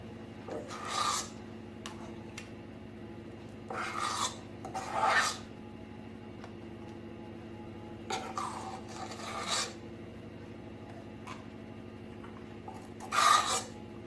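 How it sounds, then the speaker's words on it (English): A spatula scrapes bun dough from a mixing bowl in a series of short rasping strokes, spaced irregularly with pauses between, close and fairly quiet over a steady low kitchen hum. "Give us a bit of a scrape round to get the rest of it all."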